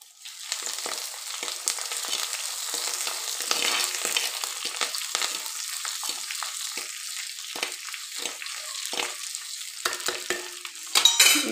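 Mustard seeds sputter and fry in hot coconut oil for a coastal-style okra stir-fry, giving a steady close sizzle dotted with sharp crackling pops and a louder burst near the end, with no voices.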